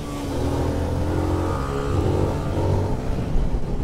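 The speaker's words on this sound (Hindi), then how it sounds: "मज़ा आ जाएगा आपको एग्जॉस्ट नोट में" A Zontes 350R motorcycle's exhaust drones steadily while riding, a loud continuous engine note that swells slightly in pitch midway, with wind rush and no talking.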